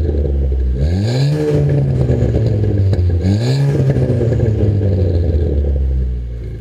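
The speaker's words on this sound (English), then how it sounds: "The MBRP is going to give your Fiesta ST a nice deep tone without being overly aggressive." A 2014-2015 Ford Fiesta ST fitted with an MBRP XP Series stainless cat-back exhaust revs twice up from a deep idle, each rise a loud, throaty swell that falls back to a steady, rumbling idle.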